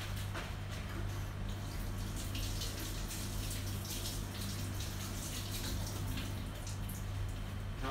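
Mint leaves are washed under a running tap, a constant splashing gush of water with low hum beneath, steady and close for the whole stretch.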